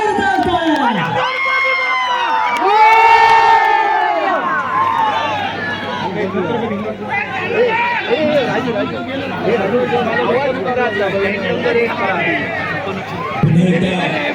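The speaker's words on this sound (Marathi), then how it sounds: "एकदा जोरदार टाळ्या" A large crowd at a state-level kabaddi final roars with cheering, shouts and excited chatter. The dense, continuous noise stays loud throughout, with a few high voices and whistle-like calls standing out near the start.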